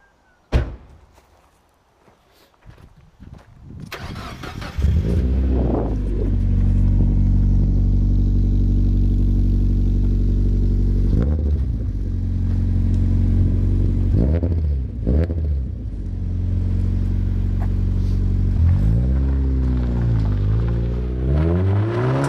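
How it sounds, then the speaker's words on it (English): After a door thunks shut, a Mazda MX-5's engine fires up and holds a loud, steady idle nearby. Revs rise and fall a few times as the small roadster pulls away. "we're going to film his little obnoxious MX-5 as it drives away"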